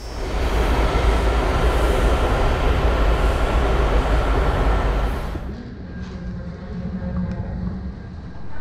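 A metro train rumbles loudly and steadily at Franconia–Springfield station near Washington DC, then the noise drops off sharply partway through, leaving a quieter hum of the station.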